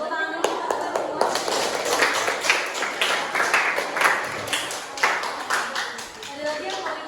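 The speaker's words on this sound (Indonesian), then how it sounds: "Tepuk tangan dulu untuk kalian semua." Classroom applause for a class IX group of students, a lively burst of hands clapping close by with uneven rhythm, mixed with children's voices and a few sharp taps, easing off toward the end.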